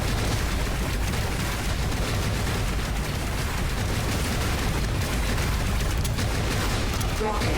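Autocannon fire in the GUNHEAD video game, a dense, loud, unbroken barrage of rapid blasts and booms that fills the whole stretch without a pause.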